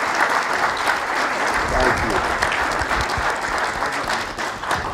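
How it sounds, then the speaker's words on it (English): Sustained audience applause for panelists at a university event session, a dense continuous clapping wash heard close and fairly loud, with faint voices mixed in underneath. "Let's give our panelists a well-earned round of applause."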